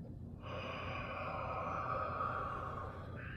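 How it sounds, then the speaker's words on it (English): A single long, deep inhale during a pulmonary wellness breathing exercise, close and steady, lasting about three seconds with no talking over it. "Deep breath in. Open your chest. Let it out."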